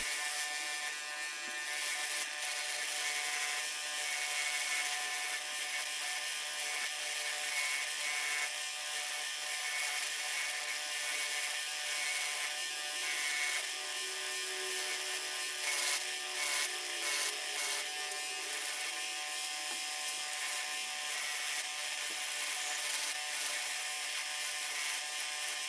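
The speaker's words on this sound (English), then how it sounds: "Now I'm using the wire wheel for some further cleaning." Wire wheel scrubbing vintage Ford script wrenches, a steady bright abrasive hiss with slight rasping variation running continuously throughout, close and fairly quiet, with no talking.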